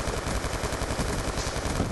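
Rapid automatic gunfire from a weapon in the video game Black Ops 2, a dense continuous burst of shots, loud and close, with no voices over it.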